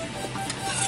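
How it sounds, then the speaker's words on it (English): A tool scrapes excess glue off a 3D-printed case, one short close rasping rub lasting under a second. "there's a little glue excess, and you can scrape it and wipe it"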